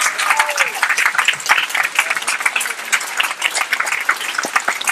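Audience applause at a nerd-culture panel on a fan cruise: dense, steady clapping from a crowd fills the whole stretch at even loudness, with a brief voice tone near the start.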